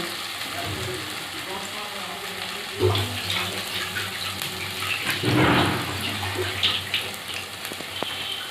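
Peanut fritters fry in hot oil with a steady close sizzle, broken by a couple of louder bursts of bubbling as batter or utensils disturb the oil, with no talk.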